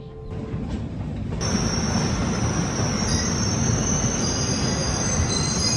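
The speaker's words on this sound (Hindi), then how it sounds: "कोई ट्रेन हमारे बिल्कुल पैरेलल में चल रही होती है, और ये ट्रेन होती है निज़ामुद्दीन बांद्रा गरीब रथ एक्सप्रेस" Nizamuddin–Bandra Garib Rath Express running close alongside on a parallel track near Ratlam at night: a loud, steady rolling rumble with a high metallic wheel squeal that rises after the first second and holds.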